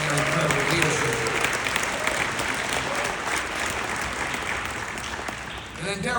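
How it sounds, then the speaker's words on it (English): A warm round of applause fills a conference hall at an airport minority advisory council gathering in New Orleans, dense steady clapping from a large audience that holds throughout and tapers slightly near the end. "I want everyone to really recognize you and give you a warm round of applause."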